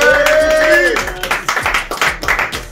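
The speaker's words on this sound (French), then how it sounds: "On applaudit." Clapping from a small group gathered with friends dressed as Vikings in Vicq, irregular hand claps rising after a stretch of talk and a sustained tone, moderately close and mixed with voices.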